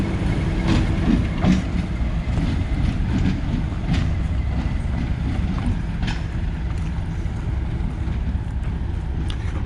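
A diesel locomotive passes at a heritage railway diesel gala, its engine a loud steady rumble throughout, with clanking wheel and wagon noise along the line.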